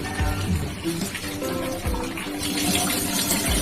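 Banana stem pieces washed by hand in water, with close sloshing and splashing, irregular handling noises and a steadier gush of running water toward the end.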